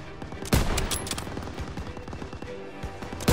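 Dense, continuous gunfire in the Call of Duty WW2 campaign battle, rapid machine-gun bursts and heavy impacts rattling throughout, with a sharp loud blast near the start and another at the end.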